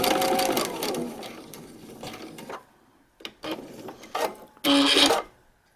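A sewing machine stitches a paper-pieced quilt block at a short stitch length in several bursts, with quick whirring runs broken by pauses and a loud final run.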